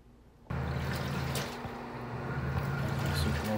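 Water sloshes and churns steadily inside a Black and Decker 0.90 cubic foot portable washer, starting abruptly after a quiet moment and continuing as a constant close wash.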